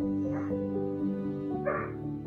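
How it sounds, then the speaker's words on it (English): A dog yips and barks briefly in the background of a quiet indoor recording, with two short bursts over a low hum and faint voice. "Sorry about the dog in the background there."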